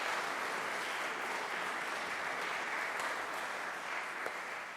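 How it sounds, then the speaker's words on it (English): A continuous round of audience applause fills a trombone masterclass hall, even and sustained at a moderate level with no talk over it. "let's give the next performer a round of applause."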